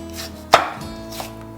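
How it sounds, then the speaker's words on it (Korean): One sharp knife chop on a cutting board slicing celery, a single close, crisp thud followed by a softer tap and quiet kitchen background. "편 썰고 채 썰고, 자, 양파와 같은 크기로 곱게 다져주시면 돼요."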